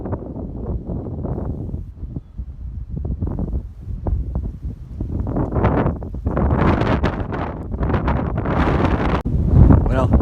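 Strong cold gusts of wind at Monmouth Battlefield State Park buffet the microphone in loud, rough roaring bursts that rise and fall, growing harsher toward the end.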